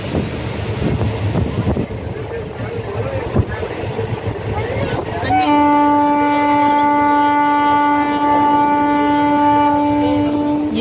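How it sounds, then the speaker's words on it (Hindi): A passing train's horn sounds as a sustained, loud harmonic blast in the second half, following rumbling wind-buffeted train noise near paddy fields just before rain. "ये जो ट्रेन के हॉर्न की आवाज़ आती है"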